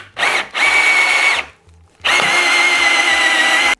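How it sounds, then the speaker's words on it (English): A power drill whirs loudly into a kayak's plastic hull through a pilot hole in two long bursts, with a short pause between them, very close up. "we're just going to drill into it"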